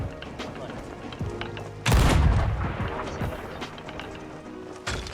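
Cannon fire in the Sea of Thieves pirate game: a loud, deep boom erupts near the middle and rumbles away, with smaller impacts before and a sharp hit at the end, while someone talks throughout.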